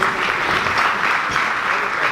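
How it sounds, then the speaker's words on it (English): Audience at a FICCI annual general meeting breaks into steady, full applause for an honoured guest, a continuous wash of many hands without pauses. "may I please request a round of applause for this truly amazing"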